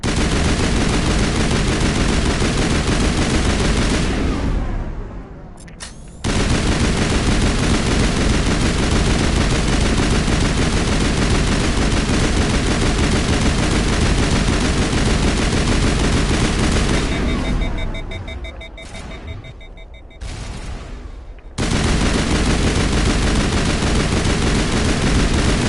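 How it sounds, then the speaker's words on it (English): Sustained automatic turret fire rattles loudly through a Mass Effect firefight, an almost unbroken barrage of rapid shots with two brief lulls where the firing cuts out before resuming. "Oh, that is a turret."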